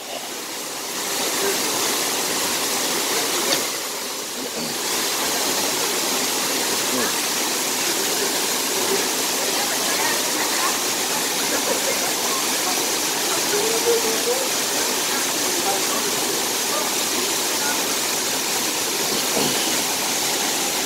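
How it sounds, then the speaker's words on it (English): Constant roaring rush of a big waterfall, loud and broad, filling the whole span with little change; faint voices may sit beneath the roar. "Go to the big waterfall."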